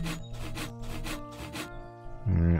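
Sawing wood in the Littlewood video game, a rapid series of about seven rhythmic rasping strokes, fairly soft, ending in a brief game chime.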